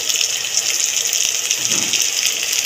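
Water used to rinse the spice bowl is poured into a mustard and poppy seed masala for an okra curry. It makes a short, continuous splashing gush, close and fairly loud.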